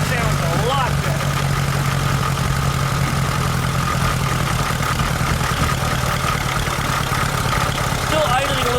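A VW Super Beetle engine in a Volksrod project idles a little shakily, a steady, continuous low rumble with faint uneven vibration, close and alone throughout.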